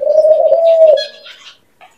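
A caged spotted dove gives one loud, close, sustained coo, followed by a few fainter rustles and a brief soft chirp.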